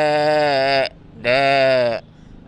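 A person imitates a male sheep with a deeper, thicker voice, giving two loud, close, sustained steady baas separated by a short pause.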